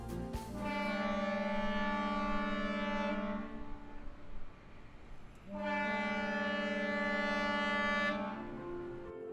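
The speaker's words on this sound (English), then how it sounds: "This siren is only a test." An employee alarm siren at a chemical plant sounds during its weekly noon test: a loud, steady multi-tone wail holds for about three seconds, drops away briefly, then returns for another few seconds before cutting off.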